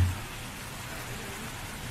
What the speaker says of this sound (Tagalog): Sa gitna ng ulan